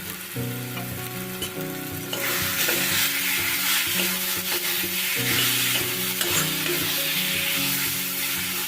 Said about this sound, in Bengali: ভেজে রাখা আলুগুলো দিয়ে ভালো করে মিশিয়ে নিলাম